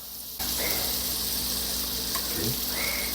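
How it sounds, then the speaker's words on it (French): Butter lands in a preheated frying pan and breaks into a sudden, steady hiss and sizzle that continues close and bright for a few seconds. "je vais venir mettre mon beurre dans la poêle"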